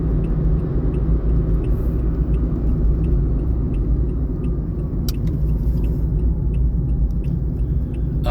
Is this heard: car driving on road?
yes